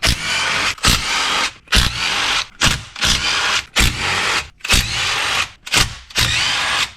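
A power tool whirs loudly in repeated bursts of about a second each with brief gaps between them, working off the transmission bolts on a RZR Pro R utility vehicle.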